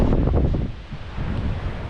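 Strong wind gusting along the Lake Superior shoreline on a morning after a swell, buffeting loudly and continuously in rough rumbling waves with no voices.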